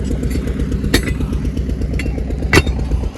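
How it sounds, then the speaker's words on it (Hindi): An engine and fan run steadily at a brick kiln, a loud continuous mechanical drone with a couple of sharp clanks over it. "यहाँ चल रहा है वही पंखा, इंजन चल रहा है, मोटर बंद है फिलहाल।"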